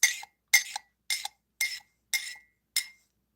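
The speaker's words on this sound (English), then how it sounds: "I'm just pushing the tea leaves back down into the base." A spoon clinks against a teacup while pushing loose tea leaves down, six bright, evenly spaced taps about half a second apart, close and clear with no talk.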